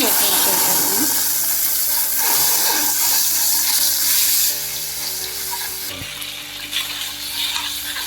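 Salt, chilli, turmeric and cumin powder frying in hot oil for a Diwali meat feast, a steady broadband sizzle running throughout with faint stirring and background hum.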